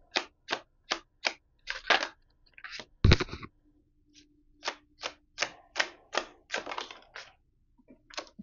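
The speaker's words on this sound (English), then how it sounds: "Let's go ahead and pull some oracle cards for you" Oracle cards being shuffled and pulled at close range: a steady run of short, crisp card flicks and slaps in quick rhythm, pausing briefly midway before resuming, with no talking.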